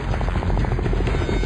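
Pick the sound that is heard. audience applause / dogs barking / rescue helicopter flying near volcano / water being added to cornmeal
rescue helicopter flying near volcano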